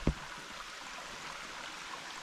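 Clear stream water flows steadily in a park trail setting after rain, a continuous soft broadband rush heard nearby, opening with a brief knock, with no voices.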